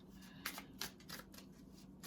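Tarot cards being shuffled close by, a quiet sequence of five or six crisp riffling bursts in quick succession.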